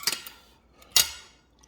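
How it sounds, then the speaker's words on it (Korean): Metal utensils clink and scrape against a large bowl while rice with greens, green onion kimchi and sesame oil is mixed. Two distinct close clatters stand out among lighter taps, with no talking. "일단 밥을 비벼야죠"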